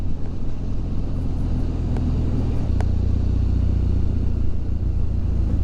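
A motorbike rides near a river and an old bridge. Its steady engine rumble runs unbroken throughout, loud and close, with a slight shift in tone partway through and no talk.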